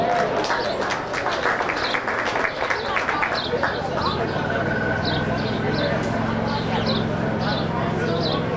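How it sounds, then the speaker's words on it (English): Crowd applause at a county fair swine show, steady clapping from the audience in an arena while someone talks over it on a loudspeaker, with light hoof-like clatter from the pen. "Let's give a big round of applause."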